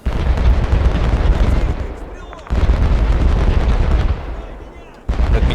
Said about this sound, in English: That's good covering fire.